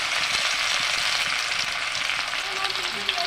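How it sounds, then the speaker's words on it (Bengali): Chopped onion fries loudly in a pan while being stirred, a continuous bright sizzle with soft scraping movements throughout, no talking. "পেঁয়াজ কুচি দিয়ে একটু নেড়ে নেব বন্ধুরা।"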